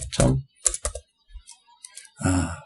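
Keystrokes on a computer keyboard while entering code, in short clustered bursts with gaps, close and fairly clear, no talking.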